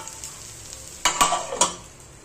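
Green chillies dropped into hot oil for khichdi, a sudden burst of sizzling and crackling with a couple of sharp spatters and stirring scrapes after a quiet start, close and fairly loud.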